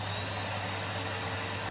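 A Henry Hoover vacuum cleaner running normally, giving a steady, loud, close motor whine with a constant broadband rush and a high tone, alone and unchanging.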